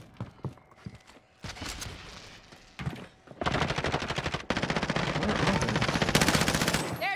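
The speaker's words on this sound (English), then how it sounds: "I seen him, and I shot at him" Automatic gunfire in the Warzone shooter game, starting with scattered shots and building to long, loud, dense bursts of rapid fire with a few thuds between them.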